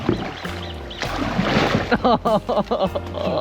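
Glacial river water splashes and sloshes in a loud rush, with voices speaking briefly over the spray.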